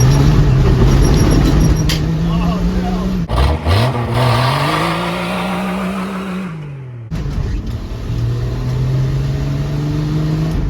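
A 1967 Dodge van's slant six engine revs hard, a loud, close, raspy drone climbing and falling through several throttle blips, with a drop-off and then a renewed high-rpm roar.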